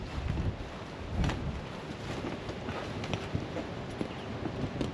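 Wind gusting across an open campsite, with a steady, loud rushing roar and buffeting bursts that swell and ease over several seconds.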